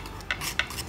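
Neem leaves are stirred into coconut oil with two quick, close scraping strokes against the container, briefly and at low volume.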